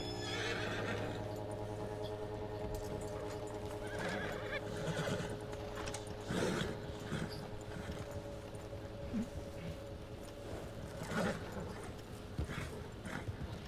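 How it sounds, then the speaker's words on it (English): Horse hooves walking in the video game Red Dead Redemption 2, a steady soft clip-clop under continuous game music, with occasional whinnies and neighs rising above the score. "My horse is walking sideways."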